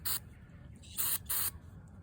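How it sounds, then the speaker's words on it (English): Aerosol spray hisses into the fuel system of a Briggs and Stratton tiller in three short, sharp bursts, the first alone and the last two close together, quiet and close. "I'm just gonna spray the heck out of it and call her good."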